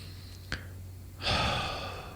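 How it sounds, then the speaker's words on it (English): A single deep breath taken during a tapping exercise on the side of the hand: a brief sharp inhale, then a longer, louder airy exhale, close and alone with no talk. "Tap on the side of the hand, take a nice big deep breath for me."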